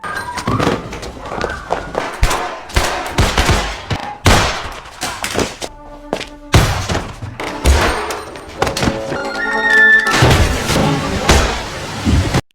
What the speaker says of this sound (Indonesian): Isa yang sudah bersiap sukses menembak tepat di endas Holtman